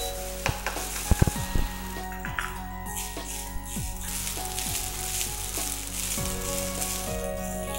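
Rice sizzling and crackling steadily in a hot pan or wok while being stir-fried with finely chopped carrot for Schezwan fried rice, with close clatter and scraping of a utensil near the start.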